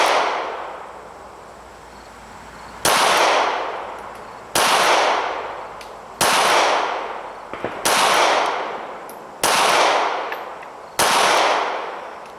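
Six sharp pistol shots from a small Ruger LCP .380 fired with iron sights, spaced about a second and a half apart, each a loud crack with a long fading echo, after a quiet pause at the start.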